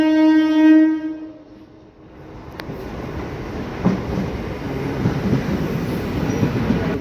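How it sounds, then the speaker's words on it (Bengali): A passenger train pulls into a station, opening with a sustained horn blast, then a steady rumble of wheels and carriages with faint clatter, loud and close, no voices. "তো আমরা স্টেশন আস্তে আস্তে ট্রেন ঢুকে গেছে আমাদের।"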